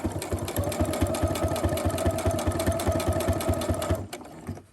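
A sewing machine stitching through layers of a fabric mask, a rapid steady mechanical chatter with regular pulsing, close and loud, stopping abruptly near the end.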